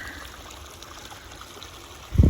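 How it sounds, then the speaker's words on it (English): Water draining and trickling down over gravel, a faint steady running sound throughout, ending in a sudden loud low rumble near the close. "The water would never run down like this."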